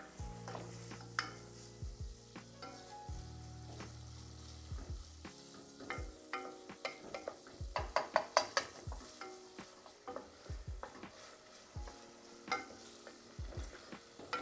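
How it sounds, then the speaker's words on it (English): Eggs in spicy tomato sauce sizzle in a pot while a spoon stirs and scrapes the sides, steady frying hiss under repeated clinks and scrapes, close and fairly quiet. "You can hear it sizzling."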